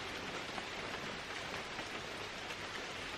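Steady rain falling at a solo wilderness shelter camp during a thunderstorm, a soft, even hiss of drops pattering on surfaces throughout, with no voices.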